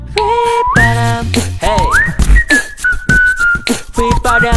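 Melodic whistling from a K-pop song, a bright, loud whistled tune that rises and falls in short phrases over a steady beat, without any voices.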